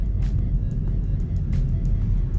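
Steady low engine drone of a Ford Focus heard from inside the cabin, a continuous near rumble with faint brief higher whooshes over it and no talk.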